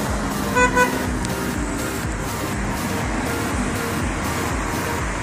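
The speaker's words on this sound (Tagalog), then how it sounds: "Grabe traffic" Busy street traffic in the Philippines, a steady roar of passing cars and buses with a couple of short horn toots early on, fairly close and continuous.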